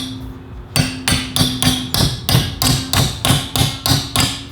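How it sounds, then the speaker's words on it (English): A regular hammer strikes heated metal being shaped into a transducer mount, about a dozen sharp ringing blows in a steady rhythm after a short quiet start, loud and close with no talk. "I'm just going to take a regular hammer and just start shaping it over."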